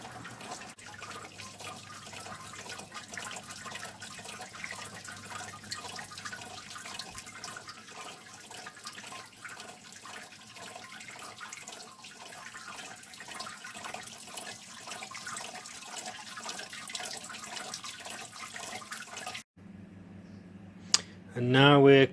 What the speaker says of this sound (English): And now when I turn on my sparge heater, I'm sparging the grain.